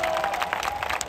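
A concert audience claps for a band, a dense wash of applause with a few scattered cheers heard from within the crowd, lasting only about a second.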